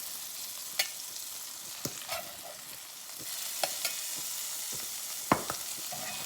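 Burgers and sausages frying on a small portable 9-inch Blackout survival stove, a steady soft sizzle with occasional sharp pops and scrapes, no talking.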